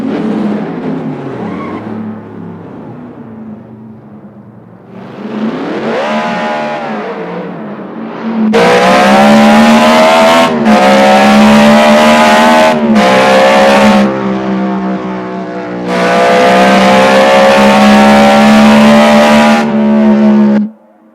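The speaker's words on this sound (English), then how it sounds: "Those tires are nice. Listen to them. Sounds like wolves behind us." Car tires squeal in long, loud screeching bursts over a revving engine, with several sustained squeals in a row and brief gaps between them.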